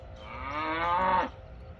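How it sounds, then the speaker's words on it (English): A single cow on Oahu, Hawaii lets out a long, drawn-out moo nearby, rising in pitch before cutting off into quiet outdoor background. "Those are cows."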